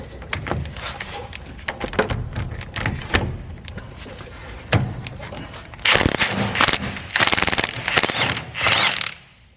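Mechanical ratcheting and rattling bursts, with a loud sustained buzzing whir of an impact wrench on a Chevy K5 Blazer from about six seconds until it stops abruptly near the end.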